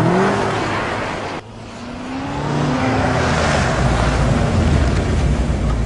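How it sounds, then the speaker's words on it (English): A BMW M5 drifts on hard-packed beach sand, its engine roaring and revving loudly, briefly dipping before surging back up as the tyres spin and throw sand. "It was very hard sand, so a lot of fun to drift the car around"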